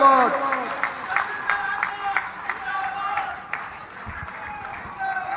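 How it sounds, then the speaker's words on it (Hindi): Scattered clapping from a crowd at a public camp event in Churu honours the chief minister, sparse claps rising and falling beneath someone speaking loudly over them. "मुख्यमंत्री जी के सम्मान में इस ओर से उस छोर तक ताली बजनी चाहिए"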